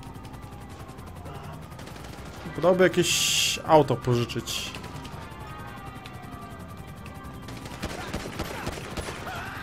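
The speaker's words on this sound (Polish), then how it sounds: "Jezus, strzelają." A cluster of sharp gunshots and crashing impacts in Grand Theft Auto V rings out in a short flurry, then fades into background noise, while someone talks over it.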